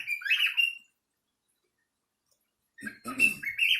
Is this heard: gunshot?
no